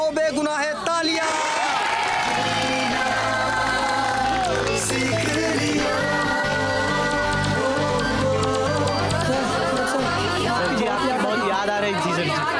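A lively crowd cheers and chatters loudly over steady background music, with whoops and scattered clapping throughout, welcoming a returning teacher.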